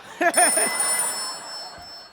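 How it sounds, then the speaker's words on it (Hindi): A phone rings with short repeated electronic chirps, followed by a steady high-pitched tone lingering in the background. "ये फोन किसका बज रहा? बंद करो।"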